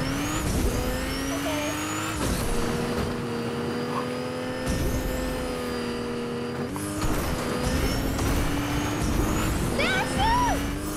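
Cars drive in a racing video game, engines droning steadily at close range with rising and shifting pitch, occasional tire squeals and brief clunks, continuous for the whole stretch.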